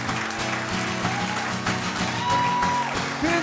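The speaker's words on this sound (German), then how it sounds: "Applaus für alle Künstler" A comedy show audience applauds all the performers at the close of a live broadcast, steady clapping spread across the room, mixed with music playing underneath.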